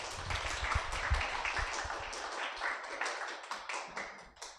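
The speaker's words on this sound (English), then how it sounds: "So everyone please give a warm welcome and round of applause to Steve Ruiz." A small meetup crowd claps to welcome a speaker: fairly quiet, scattered hand claps with sharp individual strikes that thin out toward the end.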